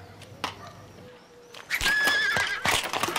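A horse gives a loud, close whinny with a rising and falling pitch, preceded by a few scattered knocks and hoof sounds.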